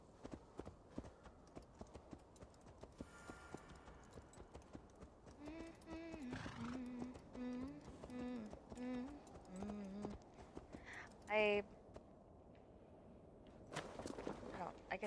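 Soft rhythmic clip-clop of horse hooves in Assassin's Creed Valhalla, faint and steady, with a brief whinny and some quiet game sounds mixed in.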